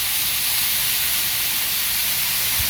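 Loud, continuous steaming hiss as water sizzles on a Blackstone griddle with broccoli, an even rushing spray-like sound throughout, with no talking.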